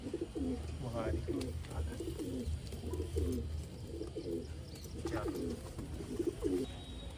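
Malwai breed pigeons cooing in repeated low, throaty phrases, fairly close, over a steady low background hum.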